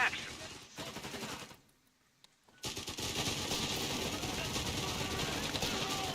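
MG42 machine gun bursts in Company of Heroes 3, a World War II strategy game, rattling in dense sustained fire with a short quiet gap, then continuing steadily loud alongside other battle noise.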